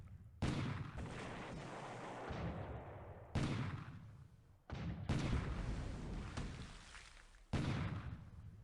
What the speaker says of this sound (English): Our coastal defense guns are tearing up that AP.